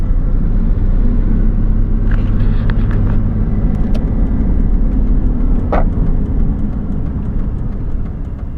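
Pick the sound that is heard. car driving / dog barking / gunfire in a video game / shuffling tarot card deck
car driving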